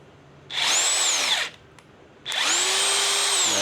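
A cordless power drill driver spinning forward (clockwise), heard as two loud, close bursts of whining motor, each winding up and down, with a short quiet gap between them.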